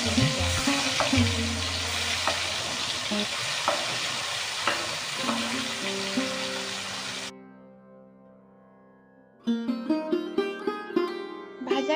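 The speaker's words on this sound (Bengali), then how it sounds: "এবার কড়াই তেল গরম করে ভালোভাবে পনিরগুলো লাল লাল করে ভেজে নিতে হবে।" Paneer cubes frying in hot oil in a kadai: a steady close sizzle with stirring for about seven seconds, then a quiet pause before the sizzling and scraping return loudly.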